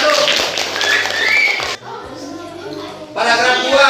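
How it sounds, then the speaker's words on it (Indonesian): A classroom claps for a student group during a lesson, with bursts of clapping at the start and end and a quieter gap between them, heard alongside faint children's voices. "Tepuk tangan buat kelompok 1."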